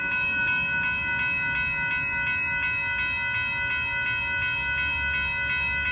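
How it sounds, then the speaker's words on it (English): A northbound Amtrak train 22 passenger train approaches the Dittmar Road crossing in Austin, Texas, with a steady loud rumble and a sustained tonal hum, close and continuous with no voices. "This is the 22 train that's heading our way."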